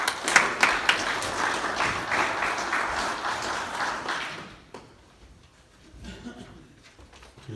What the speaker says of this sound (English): If you can give them a huge round of applause, please.